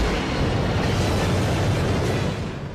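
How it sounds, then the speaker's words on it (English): Umbrella's Antarctica base self-destructs in the Resident Evil video game with a loud, sustained, rumbling roar that fills the scene for nearly three seconds before easing slightly. "That's a big explosion."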